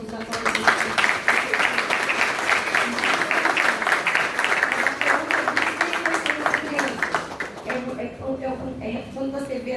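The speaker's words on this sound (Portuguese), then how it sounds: "Eu gostaria que todos aplaudissem." Audience applause at a talk on autism, a sustained, fairly loud wash of many hands clapping that holds steady for several seconds and then tapers away near the end, leaving a quieter tail.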